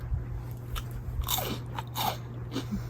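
Crunchy bread baked on a camping stove at a winter campsite being bitten and chewed up close, several crisp crunches spaced over a few seconds against a steady low hum.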